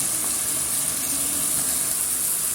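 Peppers fry in a pan with breaded chicken cutlets, giving a steady, loud, close hiss of sizzling oil that holds evenly throughout with no talk.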